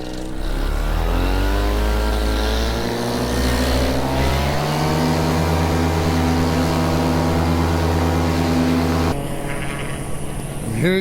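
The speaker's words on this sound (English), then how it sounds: "So I believe we're about to have an airplane depart." A small home-built Macnitrorazi 80 paramotor aircraft powers up for takeoff at Naylor Airport, its engine a loud, steady droning whine with strong harmonic tones that holds close and continuous, shifting slightly in pitch as it accelerates, then abruptly changing character near the end.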